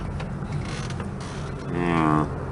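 A car window crank on a ferry creaks as it is turned, a steady close grinding that swells louder and more tonal toward the end of the short stretch.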